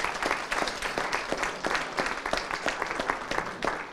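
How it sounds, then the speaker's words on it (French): An indoor audience at a talk on persuasion breaks into dense, sustained applause, many hands clapping loudly and steadily throughout with no speech. "on peut les applaudir bien fort"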